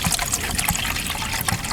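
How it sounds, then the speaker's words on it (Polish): Water pours and splashes close by in a short, steady trickling stream into a pot for boiling on a portable gas-canister burner, outdoors on a March fishing trip, without any talking. "Nie muszę dużo tej wody lać."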